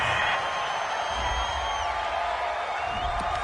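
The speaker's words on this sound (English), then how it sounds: "Well, the crowd doesn't like that." A stadium crowd in the Madden 20 football video game boos a penalty flag on third down, a steady broadband roar that holds loud and unbroken for a few seconds with no one talking over it.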